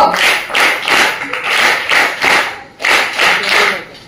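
A school annual function audience clapping together in loud, rhythmic bursts, with brief pauses between rounds of claps.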